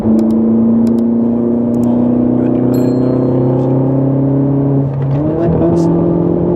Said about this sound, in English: I hope you can hear the sound, the scream of the engine.